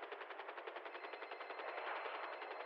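Rapid automatic gunfire in a GTA roleplay game, a steady fast string of repeated shots sounding distant and faint and muffled, with no one talking over it.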